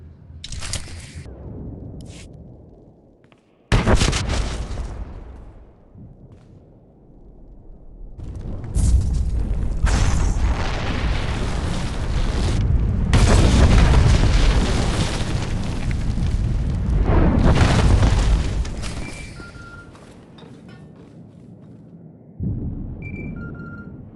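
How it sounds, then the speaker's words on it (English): A bomb goes off in a video game. The heavy explosion booms and rumbles across a long stretch, with several bursts of deep, roaring blast noise between shorter gaps and fading debris. "Set off the bomb"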